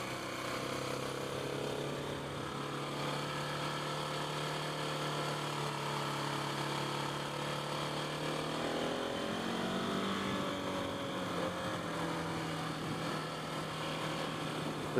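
KTM 690 Enduro single-cylinder motorcycle engine under throttle on a ride, a steady loud droning hum with a shift in pitch partway through, heard alone without talk.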